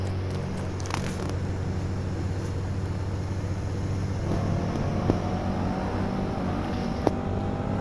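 A Tron bike in the game Indian Bike 3D runs with a steady engine drone and hum. A few faint clicks sit on top of it, and no one speaks.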